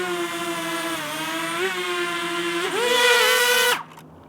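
A DJI Mini 2 drone hovering close by, its motors and propellers giving a steady, loud, buzzing whine with strong harmonics that rises in pitch as it speeds up, then cuts off abruptly near the end.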